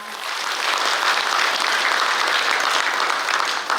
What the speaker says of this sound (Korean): 아름다운 무대를 만들어주신 무용수 분들께 다시 한번 뜨거운 박수 부탁드립니다.